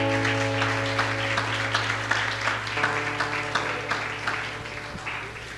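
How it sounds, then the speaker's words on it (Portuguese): A church congregation claps together in steady rhythm, the repeated claps loud and close over a sustained droning musical tone. "Agora aplaude a Jesus"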